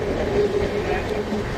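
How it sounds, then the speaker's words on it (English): A train rolls slowly through a station at about 20 to 30 km per hour, giving a steady, continuous low rumble with a faint tonal whine throughout. "the train is moving slowly and passing this station at the speed of 20 to 30 km per hour"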